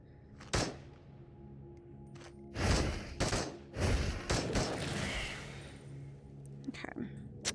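Gunfire in the VR game Into The Radius, several sharp shots spread across a few seconds, some in quick pairs, with someone talking quietly between them.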